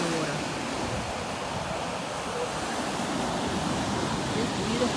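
Warm ocean water at a Jamaican beach on a sunny day, a steady broadband wash of surf rolling on without a break, close and fairly loud, with no clear talking.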